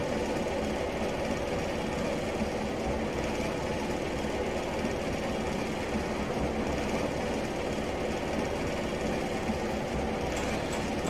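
Class 101 diesel multiple unit engine from Train Simulator Classic, a steady dense drone with rumbling low knock, running continuously at even loudness throughout with no voices.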